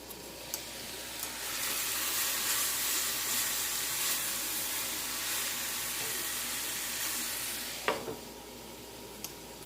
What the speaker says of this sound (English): Helps give you the sizzle that I want.